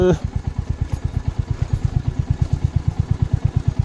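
A Royal Enfield Hunter 350 thumps along off-road with a fast, even single-cylinder beat, close and loud, with a short clatter at the start.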